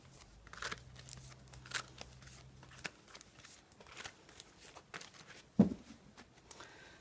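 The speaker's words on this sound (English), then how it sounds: "let's start with shuffling for you" Tarot cards are shuffled by hand in a quiet room, producing faint, scattered papery rustles and soft taps with one sharper snap near the end.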